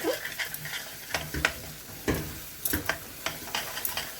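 A spoon stirs thick paneer kofta batter of paneer and cashew in a bowl, with irregular close scraping and knocking strokes at a quick uneven pace, moderately quiet and without talk.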